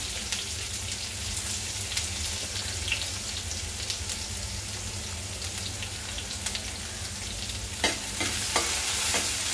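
Chopped onion sautés in hot oil with cumin seeds for a Rajasthani daal, a continuous close sizzle and crackle with scraping stirs, louder spatters and clinks toward the end.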